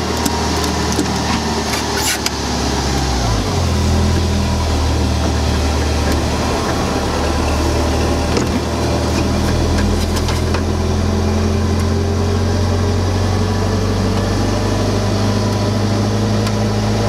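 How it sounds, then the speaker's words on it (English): A turbocharged Porsche flat-four engine idles steadily up close, its low, throbbing hum continuous and even with a brief shift in pitch early on. "that is the throb of a turbocharged flat 4 engine"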